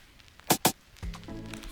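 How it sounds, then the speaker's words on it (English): Two sharp, bright percussion hits close together, then a lower tonal hit with a short sustained tail, from a perc sample in a wavy Afrobeats drum beat. Sparse and punchy, with no voices. "This is a perk sound."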